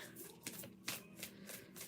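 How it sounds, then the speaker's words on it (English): Wild Unknown tarot cards being shuffled by hand, a quick run of soft papery riffles and slaps close by, with brief louder bursts at irregular intervals and no talking. "I am shuffling my Wild Unknown"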